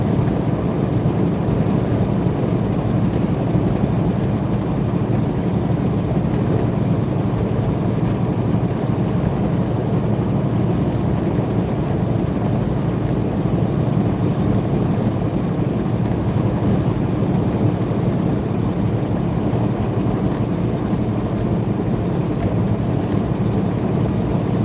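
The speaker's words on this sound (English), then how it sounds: "Sound of this roaring diesel and 18 wheels are burning down the road." A diesel 18-wheeler truck engine drones loudly and continuously as the rig drives down the road, a steady broadband rumble with road and wind noise and no talking.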